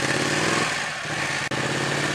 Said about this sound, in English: it's just sort of flipping the throttle at low revs